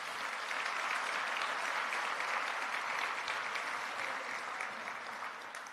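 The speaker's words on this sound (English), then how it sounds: "So please give them a round of applause." A sustained round of applause fills the room at a memorial breakfast, steady dense clapping from a large audience holding at an even level throughout.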